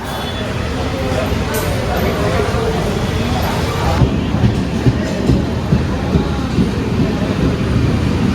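A moving express train rumbles steadily from inside a sleeper-class coach on the Konkan Railway, a constant clatter and roar with faint murmuring voices beneath.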